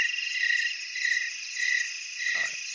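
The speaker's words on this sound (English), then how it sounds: "Those are crickets, by the way." Crickets chirping as a sound effect, a bright, steady trill pulsing in regular bursts roughly every half second, heard alone, with a brief soft thump near the end.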